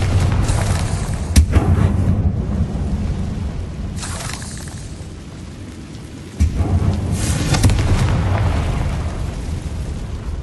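A fire-spell explosion in Hogwarts Legacy booms loudly up close, followed by rolling, rumbling debris and further heavy bursts across several seconds with no speech.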